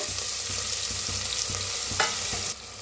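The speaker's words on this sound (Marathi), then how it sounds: "1 चमचा जिरं, थोडंसं हिंग आणि बारीक कापून घेतलेला कांदा आणि हिरवी मिरची भाजून घेऊया।" Cumin, asafoetida, chopped onion and green chili frying in mustard oil in a pan, a steady loud sizzle with faint rhythmic stirring scrapes underneath and no talking.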